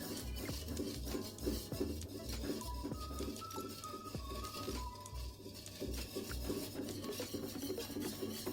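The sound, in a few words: stirring melted butter or margarine with salt in a pan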